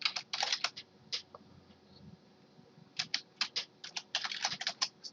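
Rapid clatter of keys on a computer keyboard, typed in quick bursts separated by short pauses, close and fairly quiet.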